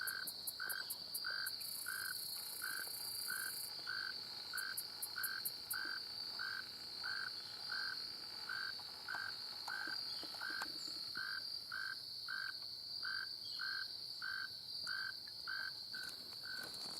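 Tree frogs calling in swamp reeds, a regular pulsing chorus of short croaks repeating about twice a second over a steady high insect drone, with no talking.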